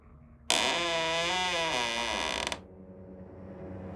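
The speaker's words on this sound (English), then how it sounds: "The man slowly opens the door." A slow, drawn-out creak with a wavering, rising and falling pitch as a man eases a door open in a creepy house, loud and close, then cutting off sharply into a quiet background.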